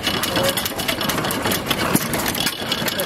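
A 10 horsepower Standard gas engine runs at a vintage engine show with a steady, rapid mechanical chugging and clatter, close and fairly loud, with no talk.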